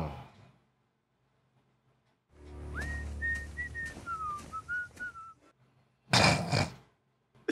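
A character in the horror film Jeepers Creepers 3 whistles a short, wavering tune over low rumbling, set between quiet stretches, then a loud crashing burst follows.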